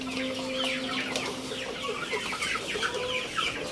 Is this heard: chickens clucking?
yes